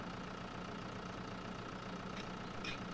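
A tractor engine idles in the farming video game Farming Simulator 2013, a faint, steady, even drone with a dense mechanical hum and no clear changes in pitch or rhythm.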